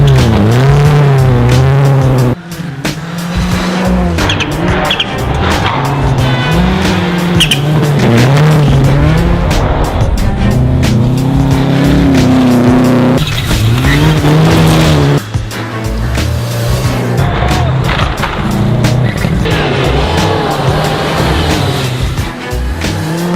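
Rally cars tear along a forest stage of the 2013 100 Acre Wood Rally, engines roaring loud and close without pause, revs rising and falling through gear changes, with tires squealing and skidding on the loose surface.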